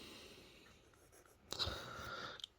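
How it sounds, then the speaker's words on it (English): Kaweco Sport fountain pen with an oblique medium nib writing on paper, a faint close scratching of strokes that grows slightly louder toward the end, with no talking. "Now let me try the same with the oblique medium nib."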